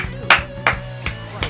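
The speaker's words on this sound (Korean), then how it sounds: "기립박수" A single person claps, about four sharp, evenly spaced slaps close to the mic, while a voice carries on underneath.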